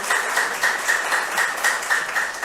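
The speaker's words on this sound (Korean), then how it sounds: "네, 박수하겠습니다." A church congregation at a Sunday service claps in a steady rhythmic beat, roughly three claps per second, moderately loud and close, with no voices over it.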